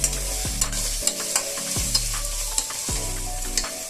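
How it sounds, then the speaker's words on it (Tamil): Paneer is stirred and sautéed in hot oil with chili powder and turmeric. A spoon scrapes the pan in a steady rhythm of sharp strokes over a continuous sizzle, with no talking. "மிளகாத்தூள் மஞ்சத்தூள் இந்த எண்ணெயில பன்னீரோட கொஞ்சம் மிக்ஸ் பண்ணிக்குவோம்."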